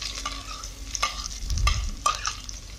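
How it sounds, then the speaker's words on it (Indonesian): Spring onions being stir-fried in a hot pan for chicken soup, with close sizzling and several sharp spatula scrapes and clacks against the pan over a few seconds, no voices. "Tumis-tumis hingga wangi dan layu."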